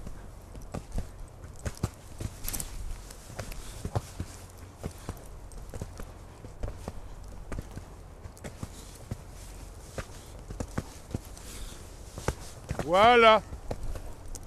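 Horse hooves clip-clop in a regular striding rhythm during a riding lesson focused on stride control, the beats fairly close and distinct, while a person speaks briefly near the end.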